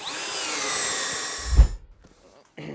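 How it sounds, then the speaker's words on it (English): A power drill bores through wood in a basement, a steady high whine with a grinding edge that rises as the bit breaks through, then spins down to near silence before a brief restart. "I'm going to change the direction of my drilling. I'm going to drill low to high outside of my duct bay"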